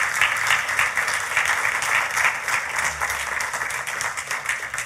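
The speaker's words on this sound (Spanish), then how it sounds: "Puede darle un fuerte aplauso al Rey de Reyes" A church congregation gives strong, sustained applause during a sermon service, with many hands clapping close and steady for several seconds and little talk over it.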